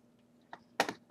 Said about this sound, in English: press enter.